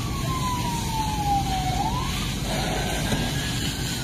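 Fire engine and ambulance sirens wail at a burning city bus in Morocco, a rising and falling tone heard from a middle distance over a steady rumble of traffic and street noise.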